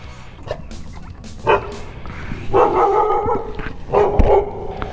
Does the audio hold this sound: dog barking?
yes